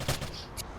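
Gunfire in a competitive online shooter match, a quick burst of two or three close, sharp shots followed by a brief fainter crack.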